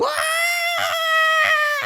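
An animated Smurfs character lets out a loud, high, sustained scream that breaks twice for quick breaths before resuming, shrill and close throughout.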